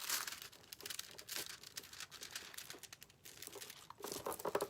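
Decoupage foil is picked off a Christmas ornament, giving faint, close crinkling and small tearing rustles in irregular bursts.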